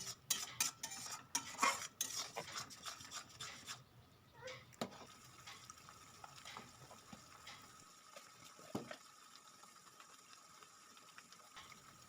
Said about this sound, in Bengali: টমেটোটাকে বেটে রেখেছিলাম ওটা দিয়ে দিলাম দিয়ে এইভাবে কিছুক্ষণ ভেজে নিতে হবে যাতে আদার কাঁচা গন্ধটা চলে যায়